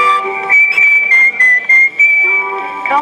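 A cheerful whistled melody played from an old 78 record on an acoustic phonograph, steady and fairly loud with sustained pitched notes and short breaks.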